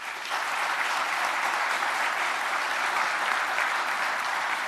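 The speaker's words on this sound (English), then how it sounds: "If you wouldn't mind, please giving them all a round of applause." A crowd applauds newly sworn-in officers of the Pentagon Force Protection Agency at their ceremony, a sustained even roar of clapping from many hands that holds steady throughout without talk.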